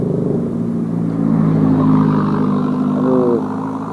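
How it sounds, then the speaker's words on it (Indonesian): A Honda Jupiter Z motorcycle with a tuned setup sputters and revs in a rainy forest, its mid-pitched engine rumbling steadily close by, swelling briefly and then easing off, with no talk over it. "motor Mas Jackson berebet lagi"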